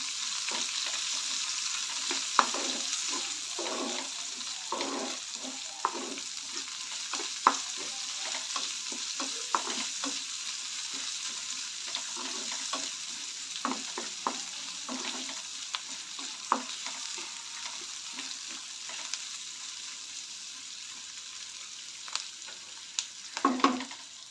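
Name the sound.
onion and curry leaves frying in oil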